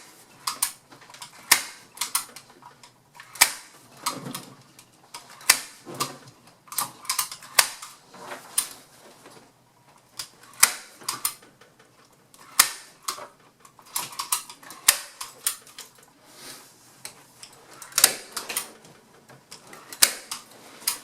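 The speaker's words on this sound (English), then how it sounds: "pull that tight. And set a staple there. Then come back to the middle, staple." Staple gun driving staples through fabric stretched over pontoon boat seats, a series of sharp, close mechanical snaps in irregular bursts with quiet handling pauses between them.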